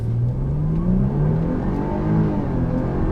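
A 2017 Jaguar XF 35t R-Sport AWD driven hard, its engine revving loudly and rising steadily in pitch under acceleration, close and continuous with no talk.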